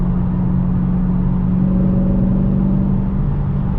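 Heard from inside a Dodge Challenger 392, the engine gives a steady, muffled low drone with a faint tonal hum, continuous and fairly loud throughout.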